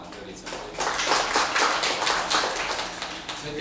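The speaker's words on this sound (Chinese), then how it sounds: "大家热烈掌声。" Audience applause at a Taipei lecture event follows a speaker's introduction, a broad steady wash of clapping from a seated crowd that rises after a brief quiet start and holds for several seconds.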